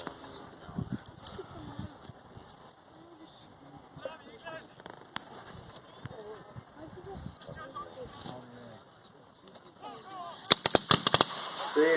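Scattered gunfire from a desert skirmish reenactment with Italian and British troops, sharp shots popping irregularly at middle distance beneath ongoing talk, with a louder rapid cluster of bursts near the end.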